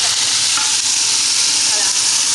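Tomato goes into a hot frying pan for an African okra stew with onions, giving a loud, continuous hiss and sizzle close by, with no voices.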